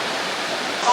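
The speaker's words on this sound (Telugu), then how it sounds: "ఎక్కడో దూరం నుంచి వాటర్ ఫాల్ సౌండ్ వినిపిస్తుంది." Steady rushing roar of a waterfall in the forest on the Netravathi trek in the Western Ghats of Karnataka, heard faint and far off as an even, unbroken wash of water with no voices over it.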